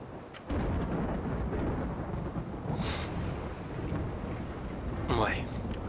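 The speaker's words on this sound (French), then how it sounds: "Tempête pluvieuse." A RimWorld thunderstorm brings steady, dense rain with two sharp thunder cracks rising out of it, and a voice can be faintly heard over the noise.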